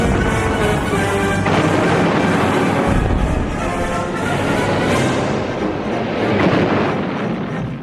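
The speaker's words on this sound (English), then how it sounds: "It took a fearsome bombardment from the task force warships to drive the defenders from their positions." Warships of a naval task force shell shore positions in a continuous heavy bombardment, a dense rumbling roar of artillery fire with booms blending together, loud throughout.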